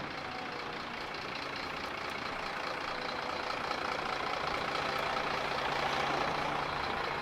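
A lorry's engine idling with a steady, low rumble, distant and fairly quiet, holding constant throughout with no voices.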